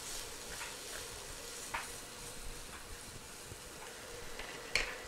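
Onions and vegetables for a Philly cheesesteak frying in a pan, a steady faint sizzle with a few soft clicks and a brief scrape near the end, with no voices.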